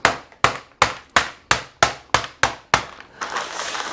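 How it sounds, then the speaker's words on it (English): Wooden rolling pin bashing a slab of chilled pie pastry dough on a counter, nine sharp evenly spaced thumps in a steady rhythm, close and loud, followed by a brief rustling scrape. "We're going to have a little bit of bashing up,"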